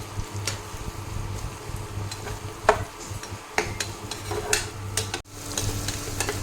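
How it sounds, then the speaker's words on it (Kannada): Onions frying in a pan, with a steady sizzle underneath and a spoon or spatula scraping and stirring in irregular strokes, close and clear with no talking. "ಸೊ ಆನಿಯನ್ಸ್ನ ಇವಾಗ ಚೆನ್ನಾಗಿ ಫ್ರೈ ಮಾಡ್ಕೊತಾ ಅಲ್ವಾ"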